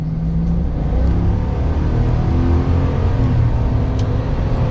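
A 2023 GMC Sierra 1500 AT4X pickup truck accelerating, its engine a loud, steady, close rumbling drone that holds throughout without a break.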